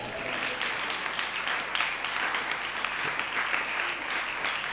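A church congregation claps together in a dense, sustained round of applause that stays loud and even throughout, with no voices standing out.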